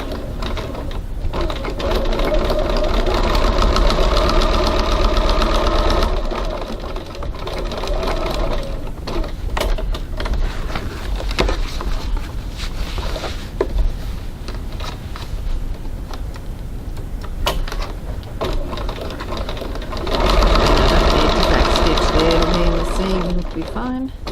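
A sewing machine top stitching the long lines of a Genevieve bag, running in steady bursts with brief pauses, loud and close, with a voice talking over it at times.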